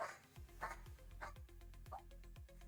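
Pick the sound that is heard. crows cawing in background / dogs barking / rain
dogs barking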